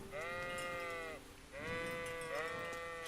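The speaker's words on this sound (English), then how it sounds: "Sheeps." Sheep bleat in the Kingdom Come: Deliverance game world, two long wavering calls with a third overlapping near the end, close and loud over a low ambient rumble.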